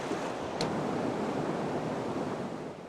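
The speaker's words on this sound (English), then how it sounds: "This boat catches the waves real hard and just try and keep it straight." Choppy river waves slap and rush against a small catamaran running a Grand Canyon river, a steady loud wash of water with wind buffeting the microphone throughout.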